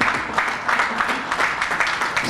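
A crowd at a fundraising party claps continuously, a dense patter of many hands at moderate distance, steady throughout with slight swells.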